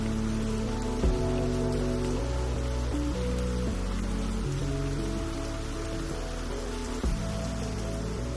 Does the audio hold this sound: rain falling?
yes